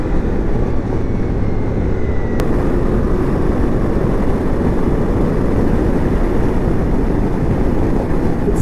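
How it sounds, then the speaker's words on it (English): A Ducati Multistrada V4S motorcycle rides at speed using its quick shifter, a loud, constant roar of engine and wind with no clear breaks, heard close up. "This Ducati Quick Shifter is fantastic."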